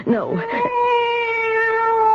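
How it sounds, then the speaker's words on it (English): A cat in a 1974 CBS radio mystery drama gives a loud, close, drawn-out meow that starts with wavering cries and settles into a long sustained wail. "It's the cat."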